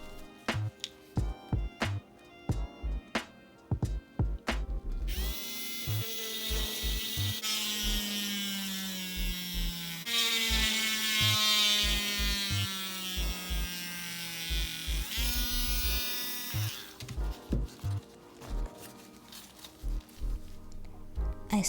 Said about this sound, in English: I'm going to drill a hole into each one